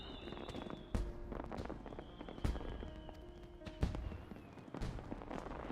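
Fireworks in Final Fantasy XIV pop and crackle in scattered bursts over a busy game soundscape, with several sharper bangs standing out against the continuous background.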